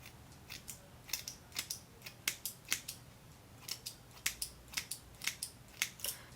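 Scissors snip through hair as a person cuts her own locks at home, giving sharp, crisp, close cuts in irregular bursts of two or three, with no talking.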